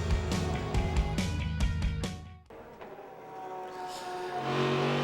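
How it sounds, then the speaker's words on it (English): Onboard sound of a Chevrolet V8 sports prototype racing at Laguna Seca in the American Le Mans Series, a loud, rich engine roar with gear changes; a sharp drop midway, then the engine builds again, close and continuous with no talk. "It's the onboard view and the unmistakable onboard sound of V8 power from America Sports Car Chevrolet."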